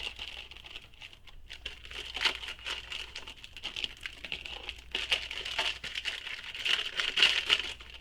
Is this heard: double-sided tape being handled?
yes